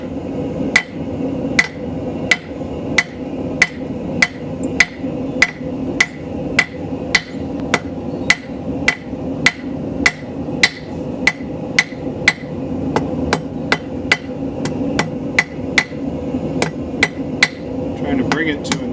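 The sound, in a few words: hammer forging a taper on hot metal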